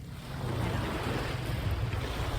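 Steady wind and ocean surf on a beach on a breezy morning, a continuous broadband roar with gusty rumble buffeting the microphone, no voices.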